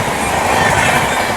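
A Rajdhani Express thunders past a halted train at a crossing on the Delhi to Mumbai line, with a loud, dense rush of rolling rumble and clickety-clack wheels right alongside.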